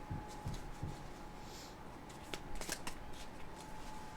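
A deck of tarot cards is shuffled by hand, giving soft papery riffles and flicks in quick bursts, close and fairly quiet, with no voices over it.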